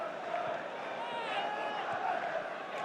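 Football crowd at the Valley for Charlton against Brentford, a distant, low, steady murmur of many spectators across a packed stadium, faint and continuous throughout.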